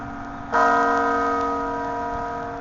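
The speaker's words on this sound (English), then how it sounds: "Just as I began to talk, the bell started to ring" A church bell at the Basilica of St. Mary in downtown Minneapolis strikes once loudly, its rich ringing tone lingering and slowly fading with a sustained hum of overtones.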